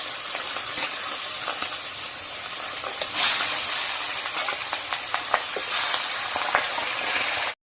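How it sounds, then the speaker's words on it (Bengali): Hilsa fish heads fry in hot oil with a loud, continuous sizzling hiss scattered with sharp crackles and pops, alone with no talk, cutting off abruptly at the end. "তেল গরম হয়ে গেছে, এবার ইলিশ মাছটা ভেজে নেব"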